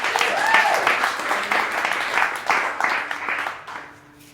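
Audience applause in a church concert setting, dense steady clapping filling the space for about four seconds and then tapering off, with a faint held tone beneath it near the end.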